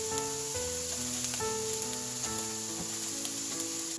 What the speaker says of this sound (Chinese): 杏鲍菇煎至金黄后，加入葱段一起煎制。